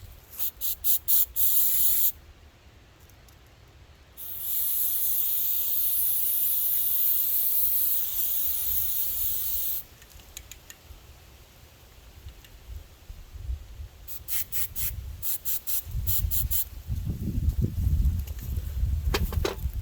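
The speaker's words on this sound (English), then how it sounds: "I'm going to spray this down real good and see what happens." Loud bursts of aerosol cleaner spray hiss onto a Honda Rancher ATV carburetor part in long sustained blasts and short rapid puffs, separated by quieter pauses, with some handling clatter toward the end.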